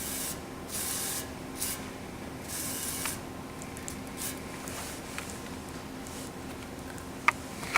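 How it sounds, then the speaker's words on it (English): Graffiti being sprayed with WD-40 and scraped off a sign outdoors: bursts of hissing spray with soft scraping and a few sharp ticks, moderately quiet and without talk. "he's just going right at it, spraying it and then scraping it off"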